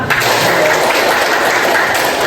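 Classroom audience applause during an Indonesian teacher-training session on Islamic ethics, a steady dense clatter of clapping hands filling the room at full loudness for a couple of seconds, with no voices over it.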